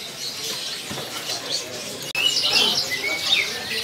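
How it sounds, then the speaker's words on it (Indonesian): Several white-rumped shamas sing at a bird kiosk, their high, bright chirps and trills carrying steadily throughout, with a busier burst of song in the second half. "Murai palangka stok melimpah ya."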